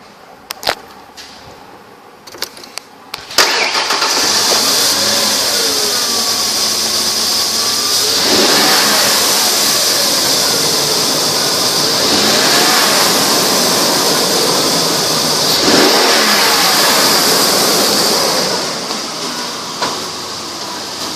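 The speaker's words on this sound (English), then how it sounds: "engine run video" A 1997 Ford Explorer, at 129,870 miles, starts after a few clicks and runs loudly and steadily up close, with slight swells in revs and a faint whine throughout.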